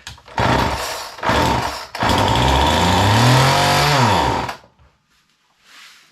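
A Homelite Waterbug water pump engine being pull-started on the ground: two short, loud cranking bursts, then a longer loud run where the engine catches and revs before cutting out, followed by near silence.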